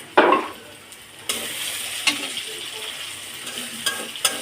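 Onion frying in hot oil in a home kitchen while cooking aloo dum, a sharp sizzle as it hits the pan, then steady crackling with scattered stirring clinks and scrapes.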